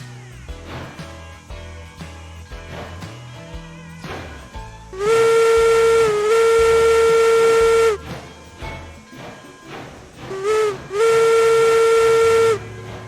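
A steam locomotive huffs with rhythmic chuffs, interrupted by two long, loud steam whistle blasts that dominate the sound before it settles back to chugging.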